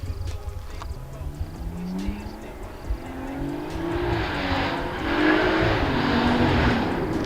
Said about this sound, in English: this car sounds beastly